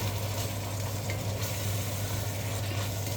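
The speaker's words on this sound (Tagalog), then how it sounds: "Haluin natin." Leftover rice frying in a pan with salt and black pepper, a dense continuous sizzle over a low steady hum, with faint scraping from stirring and no speech.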